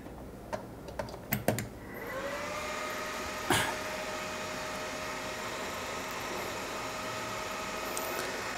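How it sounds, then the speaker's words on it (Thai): The two cooling fans of a HONGPOE MS-1500 1500W switching power supply whir up after a few clicks of plugging in, then hold a loud, steady rushing hum with a faint whine, close to the microphone. "เสียบปลั๊กแล้วก็พัดลมทำงานเลยพัดลม2ตัวครับทำงานเลย ก็ทำให้เสียงดังหน่อยนะ"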